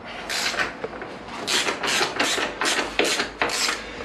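A ratchet loosening an engine mount bolt on a 1998 Kawasaki ZX9R motorcycle, about eight rasping clicking strokes in a steady back-and-forth rhythm, close and clear with no talking.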